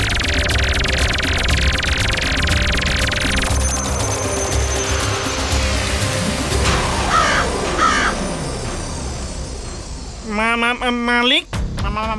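A cartoon dog, magically turned, gives loud harsh crow-like caws voiced by a performer imitating a crow, repeated in bursts over busy music and effects.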